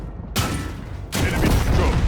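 Two heavy blasts of tank cannon fire in World of Tanks Blitz, the first after a brief quiet and the second about a second later, each leaving a rumbling tail.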